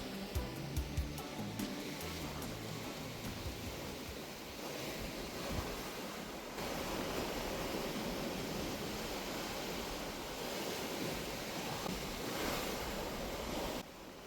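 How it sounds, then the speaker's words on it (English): Ocean waves washing against the coast of Bonaire, a continuous loud roar of surf mixed with wind buffeting the microphone, steady throughout with no talking. "I was more fascinated by the ocean though."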